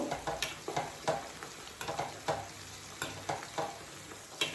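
Homemade hair oil with onion and fenugreek boils and sizzles steadily in a pan, broken by a run of sharp, evenly spaced spoon strikes and scrapes from stirring, close up with no voices.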